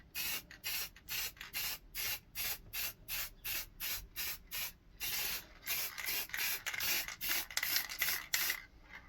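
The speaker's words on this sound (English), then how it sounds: "we've sprayed our varnish on" Varnish sprays onto a plywood cheeseburger cutout in a rapid, even series of short hissing bursts, about fifteen in a row, then merges into longer, louder sprays. The sound is close and quiet, with no voices.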